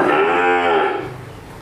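A young Sahiwal bull calf, six to seven months old, at a dairy farm gives one loud, close moo that fades out at the end.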